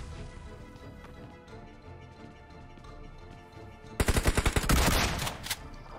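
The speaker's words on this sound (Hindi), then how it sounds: "क्योंकि वहां से फायरिंग के साउंड आ रहे थे" Gunfire in the battle royale game BGMI: a low steady background of game ambience gives way to a loud burst of rapid automatic shots, several sharp reports in quick succession, followed by more scattered firing nearby.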